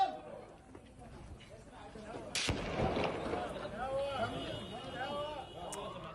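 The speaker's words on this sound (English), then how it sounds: "soldiers in the occupied West Bank were firing warning shots at a group of diplomats" Soldiers in the occupied West Bank fire a warning shot near a group of diplomats: one sharp, distant crack cuts through a busy outdoor crowd with overlapping voices and chatter.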